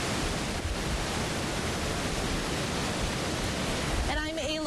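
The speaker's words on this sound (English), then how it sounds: "You can see that the falls are really just roaring." The Reedy River falls in Greenville County roar after heavy rain, a dense, steady rushing wash that fills the air, with a voice starting to speak briefly at the end.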